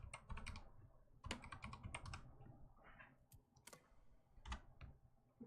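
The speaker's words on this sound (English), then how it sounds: "I'm just typing in my password" A password is tapped out on a computer keyboard in quick clustered keystrokes with brief gaps, close but quiet, with no talking.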